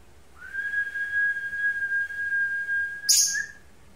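A female lovebird in breeding condition gives a sustained high, clear whistling call held steady for a few seconds, then ends in a brief sharp chirp, close and loud against a quiet background.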